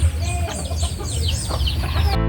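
Pet chickens cluck and chatter steadily at close range during a backyard feeding routine, with overlapping calls over a low, continuous background hum.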